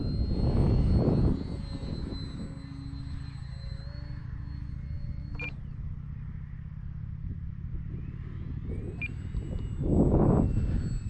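XFly Glastar RC model airplane flying overhead, a small electric motor whine that rises and falls in pitch as it passes, with low rumbly wind noise swelling near the start and end and no talking.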